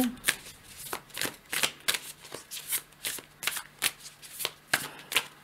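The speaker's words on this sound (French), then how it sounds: "je vais tirer deux cartes pour que vous puissiez faire votre choix" Tarot cards being drawn and shuffled for a reading: a steady run of quick, crisp riffling flicks about twice a second, close and clear, with no talking.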